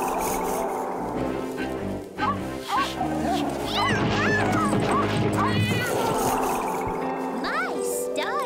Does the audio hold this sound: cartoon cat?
yes